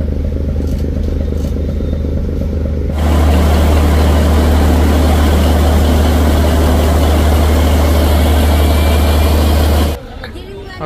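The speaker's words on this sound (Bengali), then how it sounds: "তো কর্ণফুলী তিন লঞ্চের সাথে সমান গতিতে একটি ট্রলার চলতেছে।" A fishing trawler's engine running on a river alongside a passenger launch, a loud, steady low droning hum that starts abruptly and holds for several seconds before cutting off.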